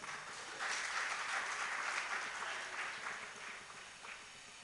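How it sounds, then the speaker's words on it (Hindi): Audience clapping during a sermon in a large hall, a broad sustained patter of many hands that swells early, holds steady, then slowly thins toward the end, moderately distant. "ताली क्यों बजाई"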